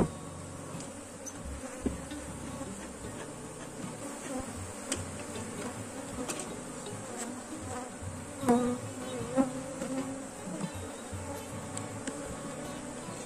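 Honey bees swarming around a hive newly split to imitate natural swarming, a steady dense buzz close by with sharp individual bee passes and small ticks on top, no talk.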